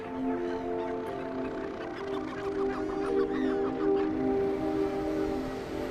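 African penguins calling at a colony on South Africa's Algoa Bay, a steady chorus of braying, honking calls layered over one another, loud and continuous without a break.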